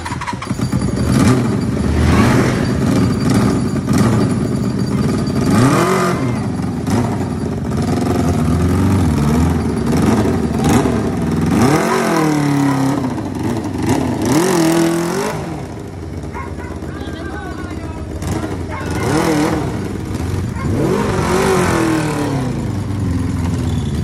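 A big-bike motorcycle engine runs loudly and steadily, with repeated revs rising and falling over the constant idle rumble.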